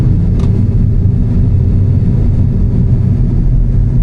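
A new MINI Cooper's turbo engine spooling up, a steady loud low drone inside the car with no talk over it.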